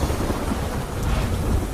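Heavy downpour during monsoon flooding, a dense roaring wash of rain with deep rumbling underneath, steady and loud without pause and no voices.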